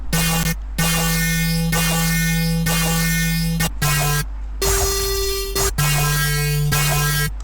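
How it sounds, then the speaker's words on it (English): A loud, buzzy synthesizer bass from a Serum preset plays sustained notes in a rhythmic pattern, shifting pitch between phrases, with brief silent gaps. "It's actually a Serum preset"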